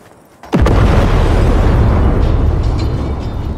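A car explodes and burns in Cyberpunk 2077: a sudden loud, close boom opens into a sustained roaring rumble of fire that slowly fades, with no voices.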